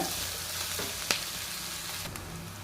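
Capsicum frying in an oil tempering for avarekalu upma, a close, continuous sizzle with a couple of sharp clicks of a utensil, no talking over it.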